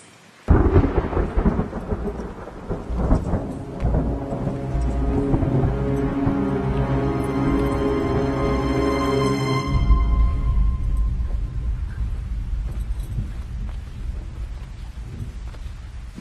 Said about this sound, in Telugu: బయట బాగా ఉరుముతుంది.